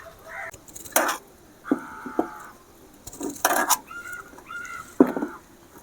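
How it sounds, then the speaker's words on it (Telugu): A knife slices baby corn down the middle on a cutting board in a home kitchen, giving a few sharp taps and chops spread out in time. Light clinks of utensils sit between them, fairly close, with no talking. "ఇప్పుడు మధ్యలోకి కట్ చేసి పక్కన పెట్టుకుంటా"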